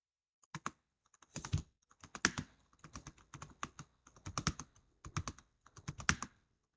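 Fingers type on a computer keyboard in quick irregular bursts of close, crisp key clicks separated by short pauses, with no voices.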